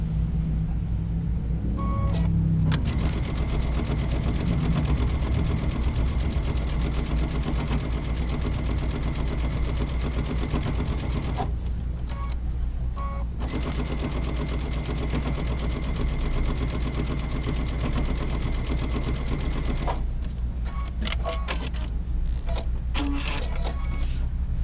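A sewing machine stitches across a quilt-as-you-go zipper cosmetic bag in long, steady motor runs with brief pauses between bursts, close and loud, no talking.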